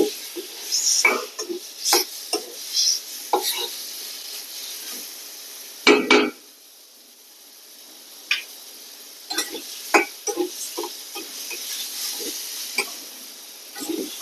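Pumpkin peel frying in a pan for bharta. Intermittent sharp sizzles and stirring scrapes come in short bursts with quieter gaps, close and fairly clear.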